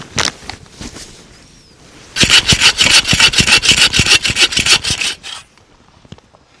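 A hand saw cuts firewood at a snowy backcountry campsite: a few tentative strokes, then about a dozen loud, rhythmic rasping back-and-forth strokes close by, ending abruptly.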